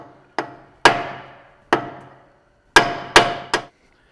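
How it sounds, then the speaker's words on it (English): Hammer blows strike the center of a pinion during a ring and pinion gear job on an off-road vehicle, six sharp metallic hits with ringing decay, irregularly spaced, loud and close with no talking. "So I'm going to hit the center of the pinion."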